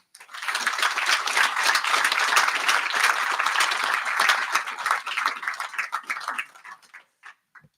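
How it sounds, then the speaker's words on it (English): An audience at an awards presentation breaks into sustained applause and clapping that holds steady for about six seconds, then thins out into a few scattered claps before stopping. "Please, big round of applause for Superintendent Clayton Paul Holland."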